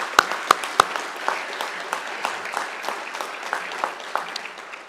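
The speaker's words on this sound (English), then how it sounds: "I think she deserves another great round of applause." Audience applause at a university graduation ceremony in a hall, a steady wash of many hands clapping with a few sharp louder claps near the start, moderately distant and fairly even throughout.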